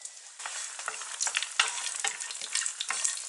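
Garlic frying in hot oil with roasted peanuts, a close crisp crackle with quick irregular stirring scrapes and rattles from a spoon, fairly quiet and free of any talk.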